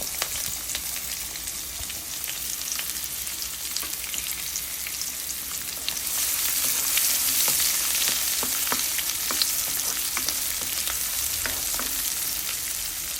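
Onions, green chillies and a ground spice paste frying in a pan for a festive curry with ice apple, giving a steady close sizzle with occasional stirring clicks that grows a little louder partway through.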